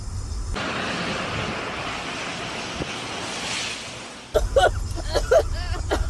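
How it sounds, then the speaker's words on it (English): A lorry passes through torrential rain, throwing up a roaring rush of spray and road noise that swells and then fades, ending in a patter of rain and wipers. "Whoa, hold tight, there's a lorry coming past."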